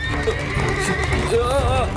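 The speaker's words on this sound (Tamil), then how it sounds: "குதிரை ரொம்ப வேகமா போயிட்டு இருக்கு" A horse gallops fast in an animated Tamil series, with steady hoofbeats, a whinny and voices mixed over the loud, busy running sound.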